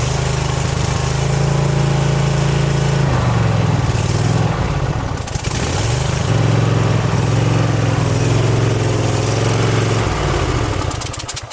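A small engine, freshly tuned up, runs loud and close for the whole stretch, its steady drone sagging and recovering twice as it settles in.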